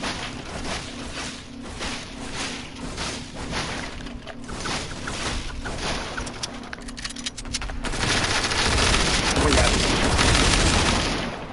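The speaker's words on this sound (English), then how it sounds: "I saw and heard gunshots." Gunfire in the video game Fortnite crackles in irregular bursts, with rapid shots and a denser, louder stretch of firing near the end.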